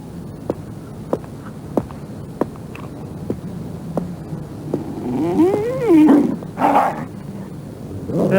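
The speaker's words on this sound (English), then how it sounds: "you want to call your dog off?" A dog gives sharp, evenly spaced thumps and low growls, then rising whines and yelps near the end, all against a steady background hum.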